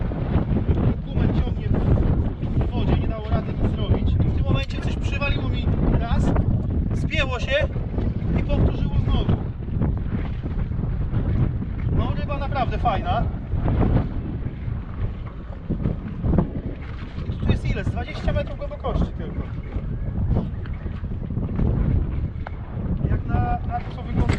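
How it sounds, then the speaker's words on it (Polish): Loud wind buffets the microphone continuously on a small boat at sea while a person talks over it throughout. "stąd jest duży wiatr"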